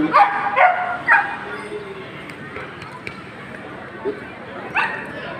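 A police dog at a children's day show barks in several short, sharp bursts, the loudest at the start and others spaced through the clip, with a crowd and announcer talking around it.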